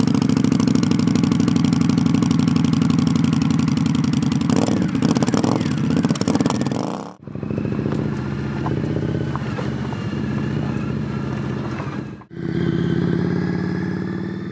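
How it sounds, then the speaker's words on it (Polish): An Indian Scout Sixty motorcycle engine with replaced exhausts idles with a deep, throbbing exhaust rumble, briefly revving, then cutting out twice before restarting its steady loud putter. "wydechy są wymienione, by ten dźwięk też przypominał motocykl z czasów II wojny światowej."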